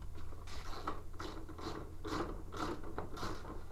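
A ratchet clicks in quick repeated bursts as it tightens a nut on a Power Wheels toy car, close and fairly quiet, with no talking.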